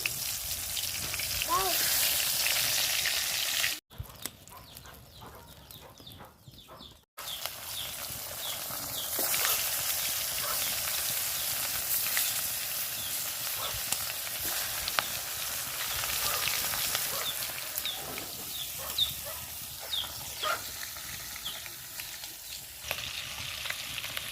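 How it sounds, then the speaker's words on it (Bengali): Ginger, green chilies and cumin crackle in hot oil in a village kitchen, a continuous bright sizzle broken by a short muffled pause, with occasional pops and light stirring throughout. "এখানে হলো আদা আর কাঁচা লঙ্কা ফোড়ন দিছি জিরা দিছি"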